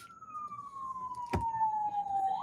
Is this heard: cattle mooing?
no